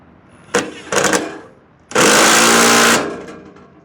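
A power screwdriver tightening screws while fitting a ZL1 Addons diffuser under a car, heard as two short, close whirring bursts and then a longer, loud, steady whir of about a second that winds down.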